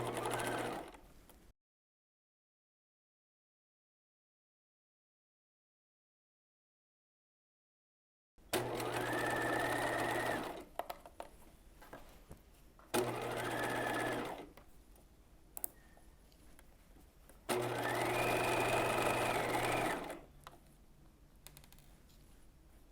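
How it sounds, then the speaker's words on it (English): A sewing machine runs in three long bursts stitching the side seams of a skirt with a 5/8 inch seam allowance, each run a steady whir separated by short pauses, close and clear after an opening stretch of silence. "And we're going to stitch your side seams using a 5/8 of an inch seam allowance."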